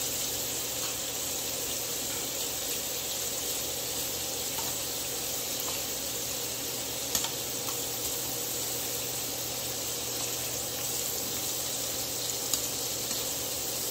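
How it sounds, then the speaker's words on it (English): Calamari and shrimp sizzle in a hot pan, a steady, even hiss of frying seafood that holds at a constant level throughout with no one speaking. "And the calamari is still cooking, which is actually great."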